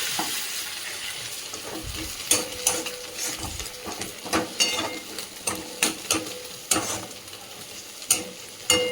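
Onion, tomato and chilli chutney frying in oil, a steady hiss and sizzle with repeated spatula scrapes and stirring clatters against the pan, close and fairly loud.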